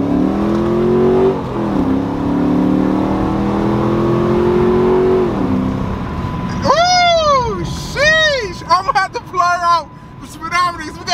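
A tuned 5.7-litre V8 car with exhaust work revs and accelerates with rising pitch, then rapid shifts send the tone sweeping up and down in quick bursts, loud and close.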